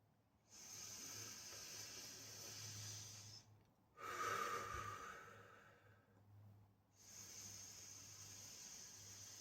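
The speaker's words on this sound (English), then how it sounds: "Let's take those 3 breaths together" Slow, deep breaths drawn in and let out during a Reiki session, three long airy inhales and exhales with short pauses between, close and soft, with no talking over them.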